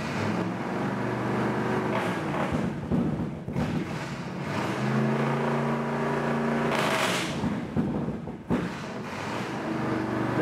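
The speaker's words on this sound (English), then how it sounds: "So the process is just rev the engine up, hit the button, pump, let off the button, she'll keep going." Car engine fitted with a flame-throwing exhaust kit, revving repeatedly in rising and falling pulls with loud, close exhaust roar and sharp bursts as the throttle is pumped.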